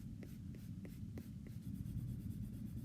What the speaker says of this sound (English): you can actually shade with the side of the pencil